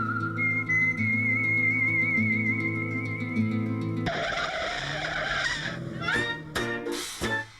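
Two cars racing for a single parking space, with a droning engine tone giving way to sharp tire squeals and skids in quick bursts near the end.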